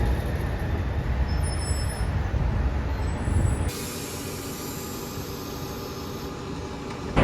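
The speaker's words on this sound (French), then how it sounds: "Et donc là je suis dans le bus" Steady low engine rumble and road noise inside a moving city bus in Los Angeles, loud and continuous, with a shift to a quieter, smoother hum partway through and a brief bump at the very end; no talking.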